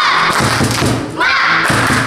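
A group of children at a Sunday school service clap together in a rhythmic chant, mixed with their shouting voices in a lively indoor room.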